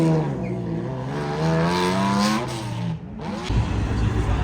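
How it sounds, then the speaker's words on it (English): A manual V12 Lamborghini Diablo at a car show pulls away, its engine climbing through revs in a loud, rising howl, then briefly dropping as it shifts before powering on. "The last all manual V12 sounds so good."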